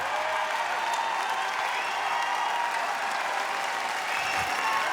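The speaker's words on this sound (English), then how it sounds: "The crowds are going wild. Standing ovation." A badminton crowd gives a standing ovation after match point, with sustained, loud, even applause and cheering that fills the hall without a break, and a commentator's voice faint underneath.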